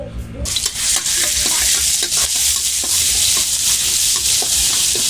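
Garlic fries over high heat at a Thai street stall making spicy beef holy-basil stir-fry, a loud dense sizzle with rapid, repeated wok scraping from start to finish.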